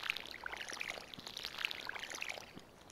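Watering crops with a watering can in a farming video game: a soft, continuous splashy pour with light droplet patter, quiet and steady throughout with no voices.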